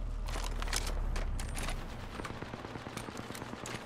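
Rapid automatic gunfire in the battle royale game Apex Legends, a dense burst of shots at first, then a steady rhythmic stream of rounds that continues at a somewhat lower level.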